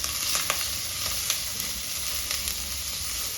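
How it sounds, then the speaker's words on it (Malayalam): Onions and tomatoes with poppy seeds being sautéed in a pan for a mushroom curry make a constant nearby sizzle with occasional light spatula taps and scrapes, heard alone without speech. "ഇതൊന്ന് നന്നായിട്ട് വഴറ്റണം തക്കാളി ഒക്കെ ഒന്ന് സോഫ്റ്റായി വരണം അതുവരെ ഒന്ന് വഴറ്റണം"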